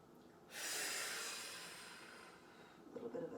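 A person exhales a long, breathy clearing breath during a gentle stretching routine, rising suddenly, then fading slowly over a few seconds, with softer breath noise near the end.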